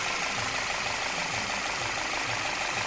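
A 2013 Skoda Superb 1.8 TSI engine idles evenly right after starting following engine repair, a steady close rumble with a faint rhythmic knock and no other sounds.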